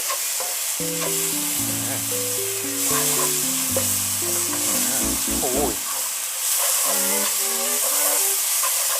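Mama instant noodles stir-fried with holy basil, a steady loud sizzle and frying hiss with stirring and scraping throughout, while background music plays along.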